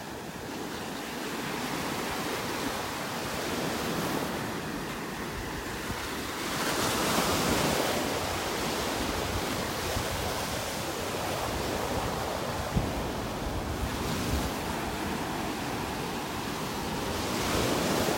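Gulf surf rolls onto the sand at Delnor-Wiggins Pass State Park, a continuous wash of breaking waves that swells and recedes, with wind buffeting the microphone.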